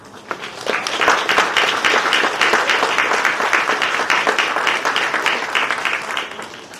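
A crowd at a charity run/walk claps and cheers, a dense, continuous burst of applause that starts suddenly and holds steady at close range for several seconds.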